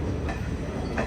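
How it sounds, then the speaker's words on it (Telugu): Tirupati Express train pulling out of the station, a steady low rumble of wheels and carriages with faint rattling, continuous and fairly close. "సో స్టేషన్ బయటకు అయితే వచ్చింది మన ట్రైన్."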